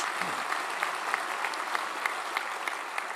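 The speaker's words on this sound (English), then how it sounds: "a nice super round of applause for the Navy League" Applause from a luncheon audience at a Sea Service event honoring the Navy League, a steady wash of many hands clapping at moderate distance, fairly quiet and even throughout.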